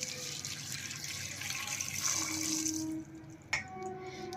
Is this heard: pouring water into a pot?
yes